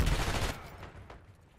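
Gunfire in Black Ops 6 on a holiday Nuketown map: a loud, dense burst of rapid shots up front that quickly fades into a lingering, decaying tail.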